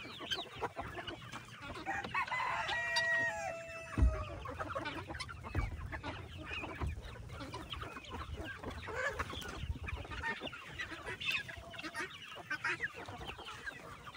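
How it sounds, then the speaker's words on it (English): Chickens and turkeys cluck and call around a farm feeding area, with a rooster crowing near the start and steady fowl chatter and rustling throughout, close and fairly busy. "you can tell there's a bunch of chickens and turkeys"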